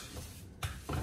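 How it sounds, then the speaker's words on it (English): A wooden spoon breaks apart ground pork in a hot pan, giving a close, steady sizzle with scraping and stirring bursts and no talk. "So, wooden spoon works perfectly. So I'm just going to break this apart"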